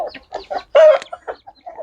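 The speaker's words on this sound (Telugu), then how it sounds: "కోడి అయితే కొద్దిగా అటు ఇటు ఎగరతా ఉంది" A hen on a rope flaps and clucks loudly and close by, giving a few short squawks with one longer cry in the middle.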